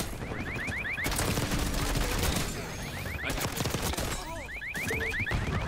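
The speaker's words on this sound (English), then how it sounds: "what is that beeping? That's like a fucking alarm." Repeating electronic alarm beeps in Black Ops 6 multiplayer, a steady chain of short rising tones in bursts, sounding over constant loud gunfire and battle noise.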